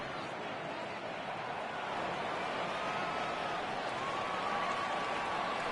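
A baseball video game crowd rising and cheering on a 3-2 count, a steady broad roar of many voices with a commentator's voice heard faintly underneath.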